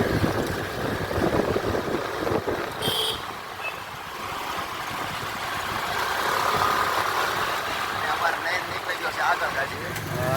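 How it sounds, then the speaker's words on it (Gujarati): A motorbike engine hums steadily while riding along a town road, with wind and traffic noise around it and a brief horn or beep partway through. "અત્યારે બાઇક ચલાવે છે"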